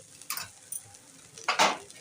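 Colourful spiced rice being stirred in a kadai: a few quick scrapes and clinks of a spoon against the metal, soft and close, with a faint sizzle underneath.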